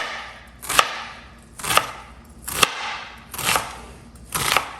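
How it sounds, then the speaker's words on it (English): A knife chops onion on a cutting board for a shrimp and rice casserole: five crisp, evenly spaced chops, close and clear, with no talking. "you want to have the onion chopped as much as possible"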